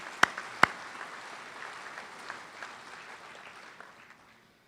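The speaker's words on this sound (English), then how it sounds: "Let's give him a round of applause." Scattered, thin applause from a sports awards show audience, opening with two sharp close claps and then a soft, distant patter that fades away.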